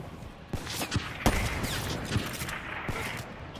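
Sniper rifle gunfire in a video game cracks in a few sharp, separate shots over a busy background of game noise, moderately loud, with a faint voice in places.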